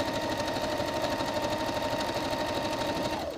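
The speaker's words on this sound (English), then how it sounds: "So I'm going to stay stitch down to the waist." A sewing machine runs a steady, continuous stay stitch down a jacket lining to the waist, whirring loud and close without pause before stopping abruptly at the end.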